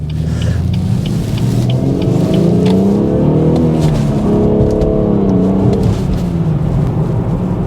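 A 2019 BMW 440i xDrive with a six-speed manual auto-blips the throttle on downshifts, the engine revving up and down in quick smooth swells, rising and falling steadily, close and loud with no talking.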